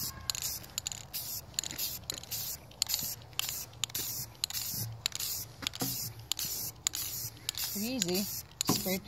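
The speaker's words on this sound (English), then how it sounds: "Spray paint them." Cream-colored spray paint hisses out of a can in a series of short, sharp bursts, close and fairly loud, with people talking over the spraying.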